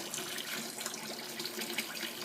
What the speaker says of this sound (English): I had to switch it off really quickly so I can fill it up with water again